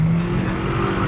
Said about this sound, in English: push in the clutch, rev the gas up, and just let go of the gas